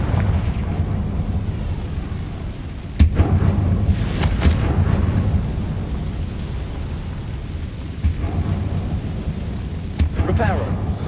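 Confringo fire spell explosions in Hogwarts Legacy on PS5, several loud booming blasts over a rumbling game background, with speech heard in the mix.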